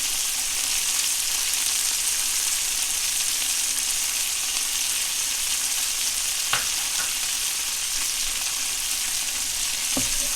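Garlic frying in a pan while making minestrone, a steady close hiss of sizzling oil with a couple of faint clicks of stirring, no voices.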